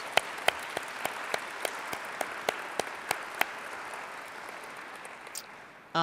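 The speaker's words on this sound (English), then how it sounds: "Please give Andrew and Jamie a big round of applause." Audience applause for Andrew and Jamie at the CityVision Spring 2010 final presentation, a thin, steady patter of clapping with a few sharp, distinct claps standing out, fading slightly near the end.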